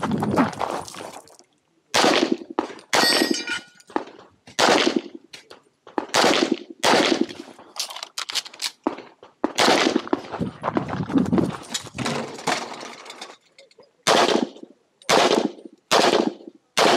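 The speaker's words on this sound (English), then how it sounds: "Pull the trigger, holster." Pistol shots at an IDPA shooting stage in Casei Gerola, fired as sharp bursts of close, loud reports with short pauses between strings and brief quiet gaps.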